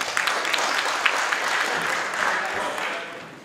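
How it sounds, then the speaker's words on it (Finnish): Applause from a crowd at a rally prize-giving ceremony in Heinola, a steady dense patter of clapping hands that holds evenly and then begins to fade near the end. "Ja aplodit vielä herroille."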